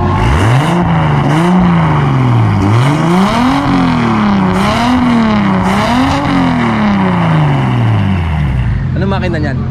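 Drift car powered by a 2JZ engine revs loudly and close, its pitch sweeping up and down in repeated surges before winding down, with people talking over it.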